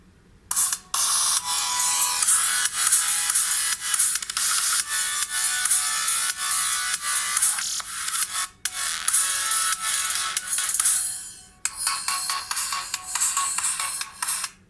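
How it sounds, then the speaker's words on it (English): A song plays at full volume through the small speaker of an LG Aristo phone, sounding loud, thin and bright, with short dropouts where the track is skipped ahead. "So I have a song up here, and we're going to go ahead and listen to it at full volume."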